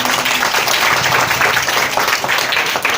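An audience of students claps loudly and continuously for beat officers at a free crash course event, a dense, steady wash of applause filling the whole moment.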